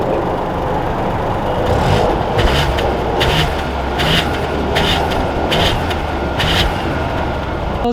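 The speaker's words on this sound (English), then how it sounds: "let's take this Bronco Sport out and see how it drives" A 2021 Ford Bronco Sport Big Bend SUV on the move, a steady broadband road and engine rumble heard from inside, continuous and fairly loud with faint repeated ticking tones over it.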